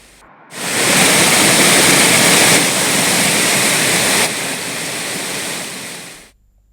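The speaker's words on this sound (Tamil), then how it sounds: "பல ஆண்டுகளுக்கு பிறகு பாறைகளே தெரியாத அளவிற்கு குற்றால அருவிகளில் கடும் காட்டாற்று வெள்ளம் ஏற்பட்டுள்ளது" Courtallam waterfalls in heavy flash flood after prolonged heavy rain, water high enough to hide the rocks, roar in a continuous loud, dense rush that swells in after a brief pause, holds steady with slight level shifts, then cuts off.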